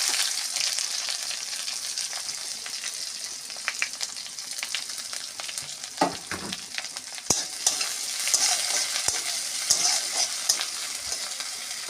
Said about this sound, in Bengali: রসুন ভাজা হয়ে গেছে, এবার পেঁয়াজ আর আদা দিয়ে দেবো।